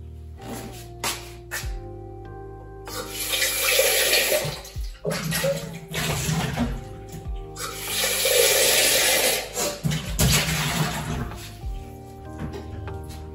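A Mellerware blender jug being rinsed under running water, with two long loud bursts of gushing and splashing broken by brief knocks and handling sounds, close up with no talk.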